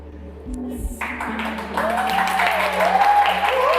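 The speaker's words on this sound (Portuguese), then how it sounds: "Ao redor, pessoas aplaudem." People applauding around a woman, clapping swelling from sparse to a fuller, steady patter after some low background sound at the start.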